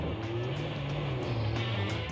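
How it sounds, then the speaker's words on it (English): A car idles and rolls along at low speed while pulling over to the roadside on Washington's Olympic Peninsula in winter rain, its engine a steady low hum throughout. "I'm just going to pull over here for a sec, folks."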